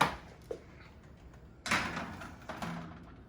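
An oven door closes after a pan of pumpkin roll goes back inside, a soft thud near 0.5 s followed by a louder clunk and rattle, all close by with no talk.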